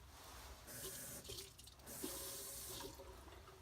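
Tap water runs steadily into a small cap, a close, hissing gush that wavers and pauses briefly near the middle before flowing on, with no one talking.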